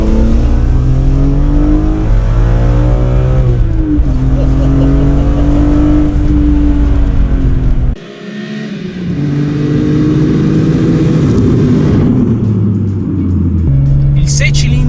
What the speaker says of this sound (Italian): Il 6 cilindri in linea aspirato che ho davanti a me produce 343 cavalli e 365 Nm di coppia.